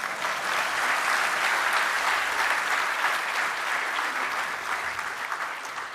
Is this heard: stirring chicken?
no